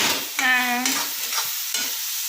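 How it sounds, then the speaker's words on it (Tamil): Masala paste for paneer gravy is sautéed in a pan, with a short whine-like scrape of a spoon and a few scraping strokes over low sizzling, close and fairly loud. "நல்லா வதக்கிண்டிக்கோங்க"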